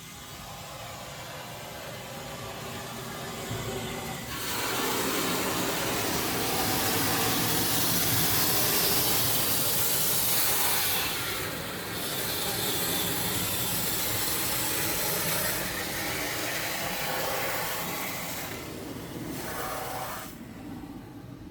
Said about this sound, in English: Little trip to the car wash.